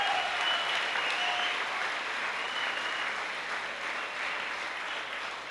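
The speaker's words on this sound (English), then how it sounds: "Please give the teachers a round of applause." Sustained applause from the audience at a secondary school graduation ceremony in 2015, a steady dense clatter of many hands clapping throughout, with no talk over it.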